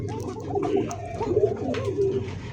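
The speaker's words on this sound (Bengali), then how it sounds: "সম্পূর্ণ একটা নিউ অ্যাডাল একটা কবুতর" Pigeons coo steadily and close by, with several overlapping soft, throaty calls rising and falling throughout, at a pigeon seller's stall among fancy breeds such as Lahori, Bombai and Giribaj.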